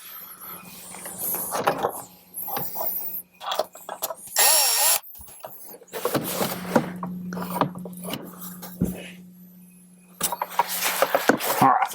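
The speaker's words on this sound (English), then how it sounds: "We're going to start a couple screws on it." Cordless power drill driving screws into a front speaker pod of a 2018-up Jeep Wrangler JL, several short whirring bursts with pauses and clicking handling noises between them.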